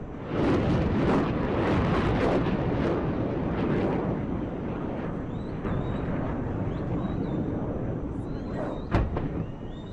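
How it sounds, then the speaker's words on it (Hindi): Loud, continuous rumbling roar with a few sharp bursts, like distant explosions from an Israeli bombardment of Gaza, over a noisy, wind-buffeted background, with one sharper blast near the end. "सुनिए जरा धमाका और देखिए।"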